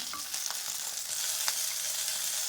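Dindigul native coriander seeds sizzling and frying in a pan for a coriander pickle, a steady close crackle with a few brief stir scrapes and no talking.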